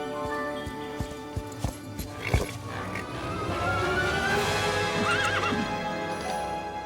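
A horse in the video game Disney Dreamlight Valley whinnies sharply partway through, with hoof clip-clops and steady game music beneath.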